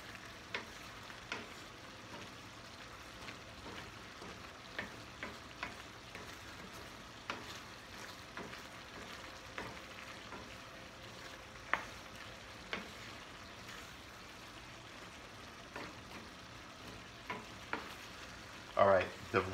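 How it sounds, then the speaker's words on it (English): Pasta with sausage, spinach and cherry tomatoes is stirred in a pan over turned-up heat, giving a faint, continuous low sizzle with soft, irregular scrapes and clicks of the spoon throughout. "We're gonna turn this up since I'm here stirring it."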